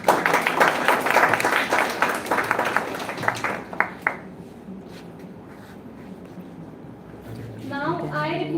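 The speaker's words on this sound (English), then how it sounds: "With a great round of applause" An audience claps in a round of applause at an indoor gathering, dense and lively for several seconds before thinning out into quiet room noise, then a voice starts speaking.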